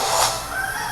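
Chicken clucking in an animated Disney Moana movie trailer, a single short burst of bird sound heard alone and fairly loud over a brief music bed.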